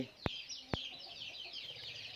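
Hens cluck softly amid a busy background of chirping birds, with two sharp clicks near the start.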